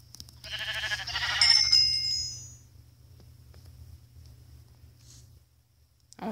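Sheep bleating in the Minecraft video game: a single drawn-out, wavering bleat up front, fairly loud, followed by a quiet stretch with a low steady background rumble and a faint click near the end.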